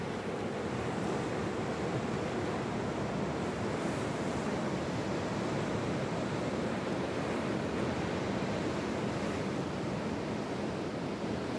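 South Atlantic Ocean surf breaks on the Llandudno coastline in Cape Town on a mid-winter day as a weather front rolls in. The rushing wash is steady and broad, mixed with some wind, and no one speaks.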